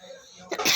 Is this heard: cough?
yes